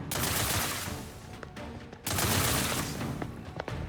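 Gunfire from the video game The Outer Worlds 2, dense sustained bursts filling the scene, briefly cut off and then resuming loud, with scattered sharper shots.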